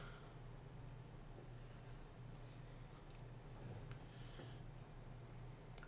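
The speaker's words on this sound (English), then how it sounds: "that is not an in-game cricket, that is a real-life cricket somewhere." A real cricket chirps faintly in the background in short, evenly spaced pulses about every half second, over a steady low hum.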